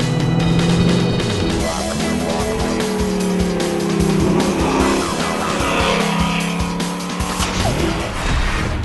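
A Ford Mustang Boss 302 is driven hard, its V8 engine roaring and revving while tires squeal in long, wavering bursts, loud and close throughout.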